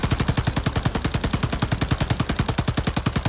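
A rapid burst of automatic gunfire in Warzone MW3 during a recoil test, a continuous fast stream of evenly spaced loud shots, close and sustained without pause.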